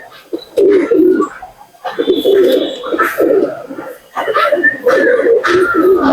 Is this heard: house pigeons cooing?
yes